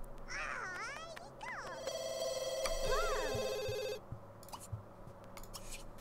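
A telephone rings in The Sims 2, several bursts of electronic ringing with game sound effects and Sim chatter around them, then a short stretch of quieter game noise after the ringing stops.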